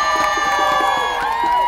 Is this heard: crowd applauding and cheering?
yes